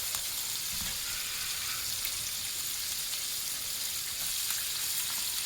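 Purple cabbage sautéing in a pan over medium heat, a continuous even sizzle with scattered pops and crackles, moderately loud, without any talking.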